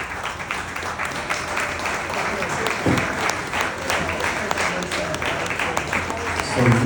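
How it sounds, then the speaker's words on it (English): Wedding guests applaud warmly after the father of the bride's toast, a steady wash of clapping from a roomful of people with brief voices and cheers mixed in near the end. "Let's give them a round of applause."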